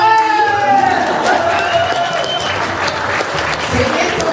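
Audience applause fills an upcycling fashion show in Étaples, steady clapping with crowd noise and some talk over it, tonal sounds drifting through the mix.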